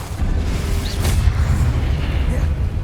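Fire-blast spell explosion in the video game Hogwarts Legacy, a sustained deep rumbling boom with a brief bright burst near the middle, loud and dense throughout.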